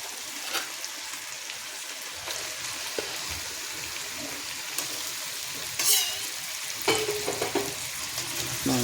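Chicken pieces frying in a pan for chicken pata, a steady crackling sizzle with scattered stirring scrapes that grow busier toward the end, no talking.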